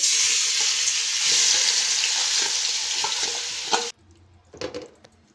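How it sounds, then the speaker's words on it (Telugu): Marinated paneer sizzles loudly in an oiled pot, a dense frying hiss with light stirring clicks that cuts off abruptly near the end, leaving a few faint scrapes. "ఇప్పుడు మ్యారినేట్ చేసిన పన్నీర్ని అయితే వేసుకోవాలి"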